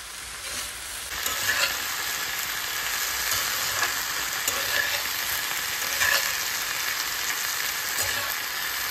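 Extra onion, garlic and green chili frying in a pan, a steady broadband sizzle running throughout with occasional stirring scrapes, close and fairly loud, with no voices.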